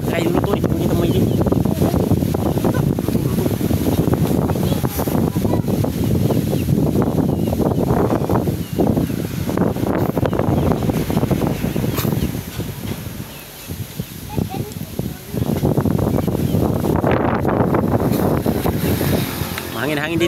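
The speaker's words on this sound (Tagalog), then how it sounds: "Mahangin-hangin dito mga guys." Strong wind buffets the microphone steadily and roars throughout, with brief lulls in the middle.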